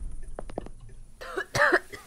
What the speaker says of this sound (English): coughing, coughing, coughing